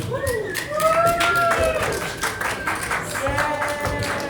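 A crowd claps for a poet at a Boulder, Colorado reading, steady applause heard through several seconds while a voice speaks over it near the microphone.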